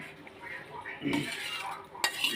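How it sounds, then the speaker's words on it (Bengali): Boiled masoor lentils go into a cooking pot of water for khichuri, a soft wet slosh and splash with a few metallic clinks of a utensil against the pot, close by and moderately quiet. "সিদ্ধ করা ডাল ছিল ডালটা দেওয়া হচ্ছে"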